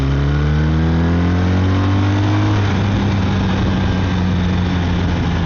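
A BMW R1300RT motorcycle engine drones loud and close, its pitch rising steadily under a quick throttle blip, then shifting and settling into a broad roar as the bike accelerates past.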